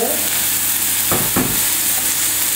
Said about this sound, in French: Dans notre huile, nous mettons notre tofu en baie pour la coloration.